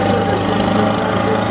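A four-cylinder diesel competition truck, the Smokin' Reaper from South Bend, Indiana, runs with a steady low rumbling engine at a pulling event, loud and continuous throughout.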